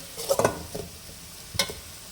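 Carrots and beans being stir-fried in a pan for egg fried rice: a faint sizzle broken by a few short scraping stirs of the spatula, loudest near the start.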